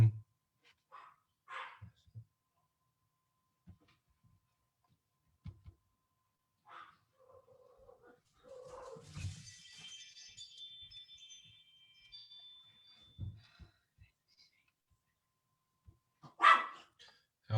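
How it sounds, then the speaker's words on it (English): A guard dog in a home barks in scattered single woofs across a quiet room, some close and sharp, with brief speech and a faint higher noise in the middle. "let me get my guard dog under control here for just a second"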